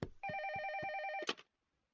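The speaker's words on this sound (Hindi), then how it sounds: "फोन बज रहा है।" A telephone rings once in a steady warbling electronic trill lasting about a second, fairly faint, framed by brief knocks and bumps, then silence in a family home in a cartoon.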